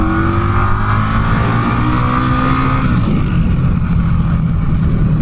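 An Indian Scout Bobber's V-twin motorcycle engine revs hard and close, climbing to a high-pitched scream over about three seconds, then holding a loud, rough roar.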